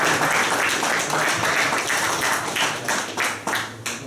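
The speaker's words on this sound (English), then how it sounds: "Big round of applause" Applause from the audience at a boxing press conference for an upcoming show: steady, dense clapping that thins toward the end into scattered, separate claps.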